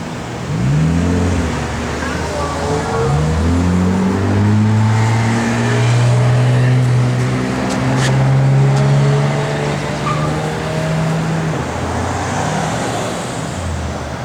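A 1969 Dodge Dart GT with a 4-speed gearbox runs nearby, its engine rising and falling through several revs in a loud, throaty sweep while someone talks over it.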